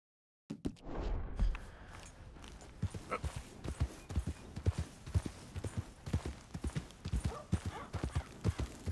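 Horse hooves clip-clop in a steady, even walking rhythm in the video game Red Dead Redemption 2, fairly close and clear, continuing for several seconds with no talking.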